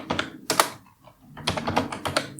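Someone types a login username on a computer keyboard in two quick bursts of close, crisp key clicks separated by a short pause.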